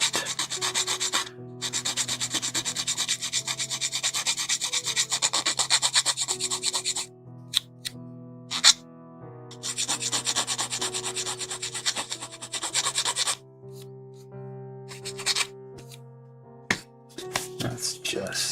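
A small plastic part from a 1/144 HG Bandai Gundam Dilanza kit is rubbed with sandpaper in long steady strokes of close scratchy friction, broken by short pauses, with background music throughout.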